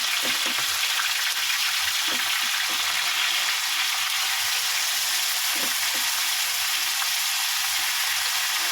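Chicken pieces frying in a hot pan with olive oil, giving a steady broadband sizzle throughout with a few soft clinks and stirring sounds underneath, no talking.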